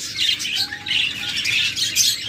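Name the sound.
pet birds calling in cage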